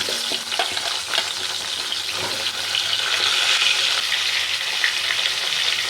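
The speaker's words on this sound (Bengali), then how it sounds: "এবার আমি পটলটা ভেজে নেব" Sliced pointed gourd (potol) fries in a pan with a steady, close sizzle and occasional stirring clatter. No one speaks.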